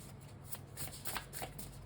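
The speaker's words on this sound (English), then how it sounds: "it does require a little bit more shuffling" Tarot cards being shuffled by hand, a soft, steady riffling and rustling of card stock close to the mic, quiet and continuous with no talking.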